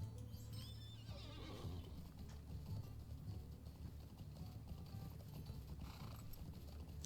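A video game horse or pony trots with steady clip-clopping hooves and an occasional whinny, heard faintly over a continuous background of game ambience.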